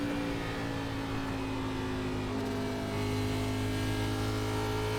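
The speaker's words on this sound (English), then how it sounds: "Engine started to sound a bit choppy there at the high end, so it could blow up." An iRacing Xfinity Series race car at Texas Motor Speedway holds a steady, droning engine note at high revs, continuous and moderately loud, with no talk.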